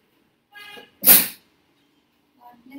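A single sharp human sneeze sounds close and loud, preceded by a brief intake of breath, with a short burst of speech following after a pause.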